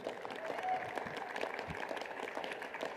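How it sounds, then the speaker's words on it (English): Law school graduates at a commencement ceremony applaud themselves, a moderate, fairly distant wash of clapping from the crowd with a faint voice or two underneath. "How about a round of applause for yourselves?"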